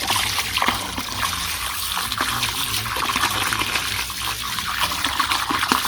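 Water runs and trickles steadily from a tap, splashing at close range while sea beans (samphire) are rinsed.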